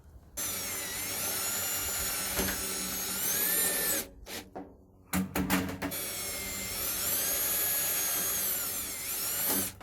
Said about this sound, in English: I'm going to attach my 90 to my straight here with just a few self-tapping screws